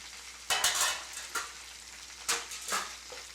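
Thin pieces of baccala cooking in tomato sauce, soft sizzling and a few sharp utensil stirs and scrapes against the pan, faint and close.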